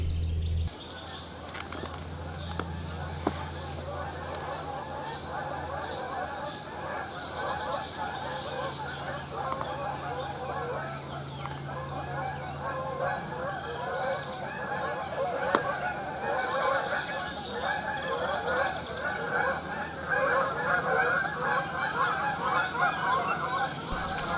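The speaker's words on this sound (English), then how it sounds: "I do not enjoy geese. I hope they just keep on going." A flock of geese honks continuously overhead, many overlapping calls carrying on steadily with outdoor background noise and a low hum early on.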